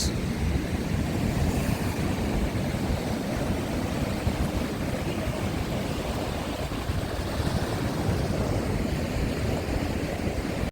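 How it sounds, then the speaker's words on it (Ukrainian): Storm waves on the sea shore at Odesa, a continuous heavy roar of surf mixed with buffeting wind on the microphone, loud and steady without talk. "Ну як немає хвиль? Ну ось іде."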